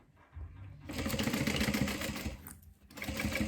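A sewing machine stitches a lunch box seam at a quarter inch: a short start, then a loud, steady mechanical whir that briefly stops near the end before running again.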